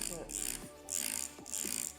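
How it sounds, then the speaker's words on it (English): A spray bottle misting luffa seeds in an old egg carton, three short close hissing bursts in quick succession with clicking trigger pulls between them. "what I'm going to do is just with my spray bottle"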